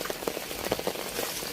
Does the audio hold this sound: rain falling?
yes